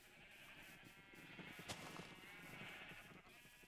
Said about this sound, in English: Those sheep are so loud.